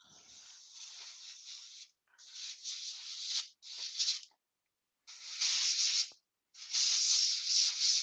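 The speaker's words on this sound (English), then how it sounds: "What is that you're spraying through there, Terry?" Airbrush-style spraying of black ink or intrinsic black colour, heard as close, steady hissing bursts in several runs separated by short pauses.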